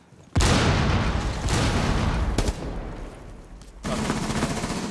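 A frag grenade blasts in a Rainbow Six Siege match, a sudden loud broadband boom that rolls into sustained rumbling, followed by a second burst of noise near the end, dense and close with no clear talk.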